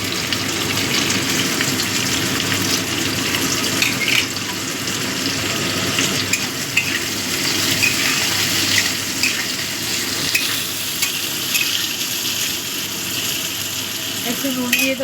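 Chopped onion and capsicum frying in a pan, a steady close sizzle and hiss running throughout with occasional stirring scrapes, loud and continuous.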